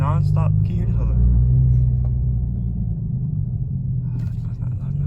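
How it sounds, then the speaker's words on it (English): A Kia Stinger 2.0 tuned with a Race Chip idles with a deep, continuous exhaust rumble and uneven burble close by, while someone talks over it. "But the car is non-stop burbling"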